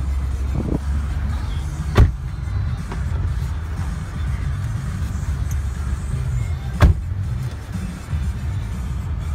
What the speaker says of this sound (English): Let's take you on a quick test drive.